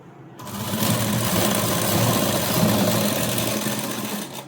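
Electric sewing machine stitching the joined seam of a three-layer frock, a steady fast whirring hum that starts after a brief pause and runs loud and continuous to the end, with no talking.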